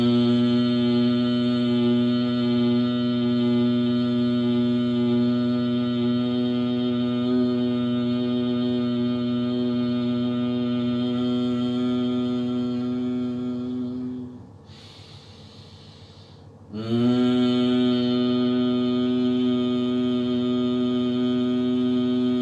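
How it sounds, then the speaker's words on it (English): A steady nasal hum of bhramari pranayama breathing, a sustained buzzing tone held for about fourteen seconds, a short quiet inhale, then the hum resumes, close and even. "making humming sound like this"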